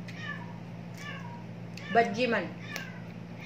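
A cat meows in a long, whining cry, close and fairly loud, alongside someone talking in a home kitchen while fish cooks, with a steady hum underneath.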